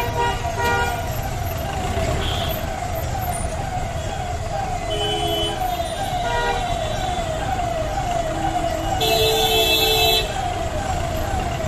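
Night traffic jam on VIP Road in Kolkata: dense engine rumble with repeated car horns honking near and far and a siren-like wail rising above, continuous and loud throughout.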